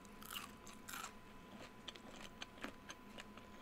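Crispy salt and pepper shrimp bitten and chewed close up, a few sharp crunches followed by quieter crackling chews, faint and without talk.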